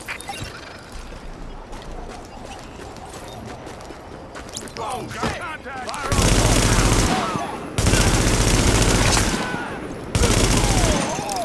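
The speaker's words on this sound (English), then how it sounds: "Warning. Sentry turret detected." Sentry turret in The Division firing in long, loud automatic bursts, separated by short pauses, after a stretch of quieter background game sound with a voice.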